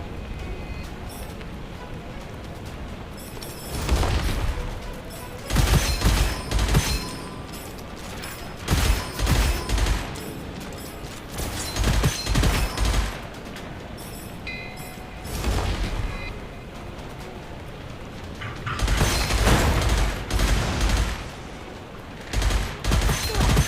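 Shotgun fire in the Gunfire Reborn shooter game: several heavy bursts of booming gunshots arrive in clusters, loud and close, separated by quieter stretches of game ambience.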